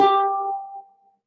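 A single string note played with finger vibrato rings out clearly and alone, wavering slightly in pitch as it decays over about a second.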